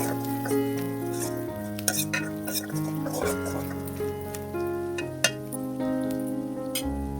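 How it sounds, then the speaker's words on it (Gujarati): Spices get stirred in a pan for vagharela rotla, with soft scraping and occasional clinks of a utensil under steady background music and a faint hiss. "હવે મસાલા બધા બરાબરથી મિક્સ કરી"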